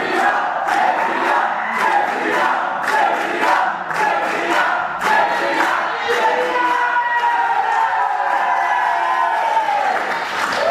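A wrestling crowd at a UKW show roars for its heavyweight champion, a loud, sustained wall of cheering with rhythmic claps and chanting surges running the whole way through, close and dense, with no talk on top.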